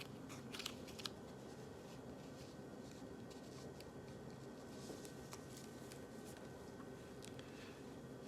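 Scissors make soft, faint snips while cutting a flower shape out of a patterned piece for a floral gnome hat. The snips come in a few scattered clusters over a quiet room hum.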